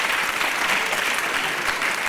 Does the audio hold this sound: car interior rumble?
no